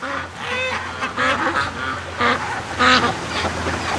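Farm ducks, Muscovies among them, quack in a steady series of loud, close bursts that come roughly every half second to second, with no voices over them.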